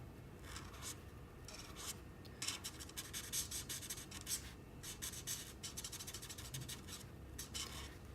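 A Brick Brown colored pencil scratches across paper in quick repeated strokes, shading hair strands on a drawing, close up and fairly soft, with no voices.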